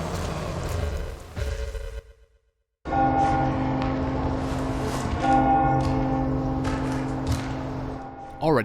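A single church bell toll rings in the Resident Evil 4 Remake video game, a loud resonant strike that lingers and hums, set after a brief silence and other game noise.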